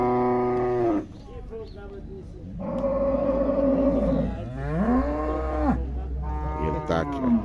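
A cow moos loudly several times in long, drawn-out calls close by at a cattle fair, with short pauses between them.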